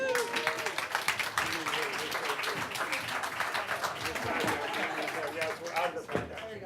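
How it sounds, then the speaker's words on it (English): An audience at an architecture equity symposium applauds the winners with dense, steady clapping and scattered cheers and voices mixed in, holding at an even level throughout. "A round of applause for all the winners."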